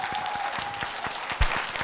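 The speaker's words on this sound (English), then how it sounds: "Can we give a round of applause to our panelists?" A panel audience gives a short burst of applause for the panelists, steady clapping under a faint tone, with one louder thump near the end.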